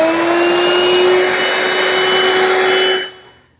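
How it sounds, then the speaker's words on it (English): Router fitted with a 1/4-inch roundover bit whines at a high, steady pitch while easing the corners of redwood arbor parts, then cuts off after about three seconds. "The 1/4-inch roundover bit is used here to ease these corners."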